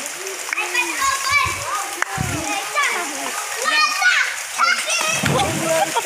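Children splash and play in rainwater flooding a covered court, with bright broken splashes and excited kid voices throughout, near and lively; an adult also talks over the scene.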